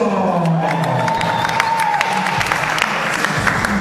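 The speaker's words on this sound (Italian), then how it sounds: "Fate un applauso!" Audience at a party hall in Foggia breaks into sustained applause mixed with crowd cheering and whoops, loud and dense throughout, with faint voices underneath.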